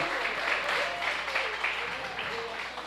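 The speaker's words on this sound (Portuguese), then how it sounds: "Aplauda o Senhor em nome de Jesus." A church congregation claps for the Lord during a Portuguese-language service, a full continuous wash of applause with voices and faint cries mixed in throughout.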